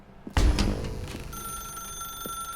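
A telephone in The Stanley Parable rings with a sudden loud electronic trill after a thump, then a lingering steady tone hums underneath as the ring fades.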